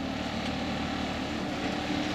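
A propeller airplane drones overhead at a steady, fairly loud level, a continuous hum heard alone without talk.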